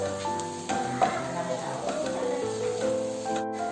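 Onions being stirred in a hot pan with chili powder and turmeric for a Kerala-style prawn masala, a steady close sizzle with soft scraping and stirring under faint background tones, no talk.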